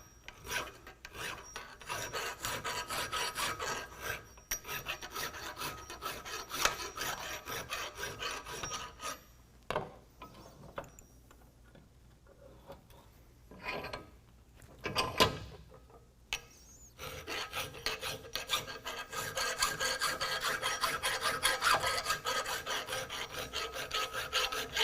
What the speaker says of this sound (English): So we're just going to file these down.